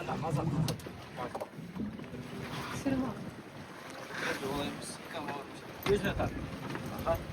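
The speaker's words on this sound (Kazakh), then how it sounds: "мынандай қайық айдап келе жатыр" Oars splash and dip in water as a small boat is rowed at Burabay lake, with wind and lapping water around and people talking over it.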